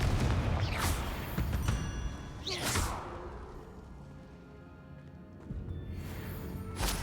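Confringo blasting spells fire off in the Hogwarts Legacy video game, several booming bursts with whooshing tails spaced a few seconds apart, loud and close, alone without talk.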